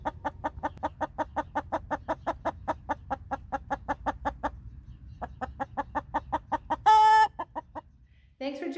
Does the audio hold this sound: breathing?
no